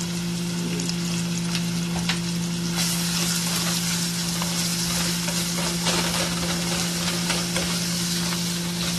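Tomato paste with a seasoning cube and hot pepper sizzles in a pot, a dense, continuous frying hiss with light stirring, loud and close over a steady low hum, without speech.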